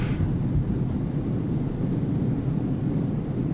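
Reverse thrust from an A32nx airliner landing in Microsoft Flight Simulator 2020, a steady loud low engine roar with a deep rumbling bed that holds evenly throughout.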